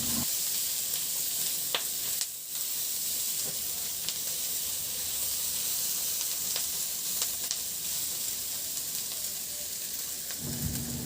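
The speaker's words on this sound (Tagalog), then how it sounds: "Maglagay na ako ng bawang, sibuyas, luya at siling labuyo. Ihalo ko lang yan hanggang sa maglabas ng aroma yung ating mga aromatic spices." Pork belly sautéing with garlic, onion, ginger and chili in a hot pan, a loud, steady close sizzle with occasional scraping stirs and no talking.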